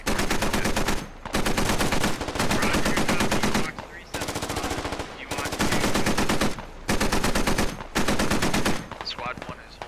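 Machine gun fire in the Squad video game comes in loud, sustained bursts of one to two seconds each, about six in a row, separated by brief pauses.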